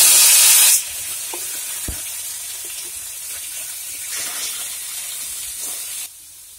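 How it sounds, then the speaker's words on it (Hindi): Onions sizzle steadily in a hot pan, a loud continuous frying hiss with a few soft knocks from stirring. "अब हम इसमें प्याज ऐड कर देंगे"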